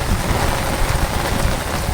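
Heavy rain pouring down in a dense, loud, continuous hiss of drops, close and steady throughout with no voices.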